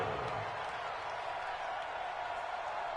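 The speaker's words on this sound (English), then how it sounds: "The crowd here in the Dome making things difficult." A steady roar of a stadium crowd fills the Dome at an NFL game, Rams versus Saints, a dense continuous wash of cheering and noise with no distinct claps, heard from within the stands.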